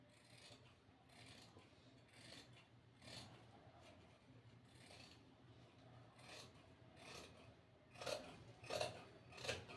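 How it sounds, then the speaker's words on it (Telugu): Scissors cut cloth by hand along a drawn shape for a basket-style design, with a series of quiet, rhythmic snips that grow sharper and louder toward the end. "ఇలా ఈ షేప్ అనేది డ్రాయింగ్ చేసుకొని కట్ చేసుకోవాలి."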